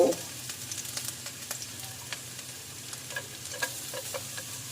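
Light metallic scraping and stirring in a hot new wok with a spatula, garlic and pork frying, with a soft steady sizzle underneath and occasional faint clinks; no talking.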